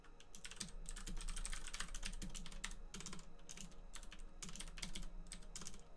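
Rapid computer keyboard typing with dense, uneven bursts of key clicks, close and steady throughout while shortcut keys are entered during a Rust coding session, with no talk.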